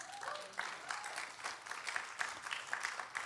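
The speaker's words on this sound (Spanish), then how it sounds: "Denle un aplauso al Señor." A church congregation claps through a short, moderately distant burst of applause, with a faint voice now and then under the clapping.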